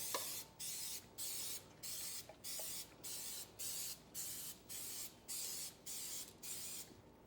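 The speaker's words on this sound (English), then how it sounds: "So we'll take our pan spray and just kind of lightly spray them." Cooking pan spray misted lightly over a muffin pan, about eleven short hissing bursts in a steady rhythm, each roughly a third of a second, close and fairly quiet with brief gaps between.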